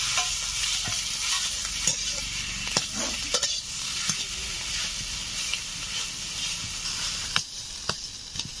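Boiled potatoes and a pinch of turmeric powder fry in a pan, giving a soft continuous sizzle broken by frequent scraping clicks of a spatula as the mixture is stirred, close and alone.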